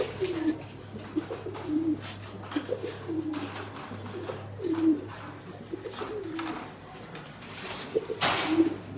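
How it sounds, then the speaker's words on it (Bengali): An adult pigeon cooing while being held, close repeated throaty coos in a steady rhythm every second or so, over a low steady hum, with a brief rustle near the end. "এবার আমি এই কবুতরটাকে যদি একটু ধরি"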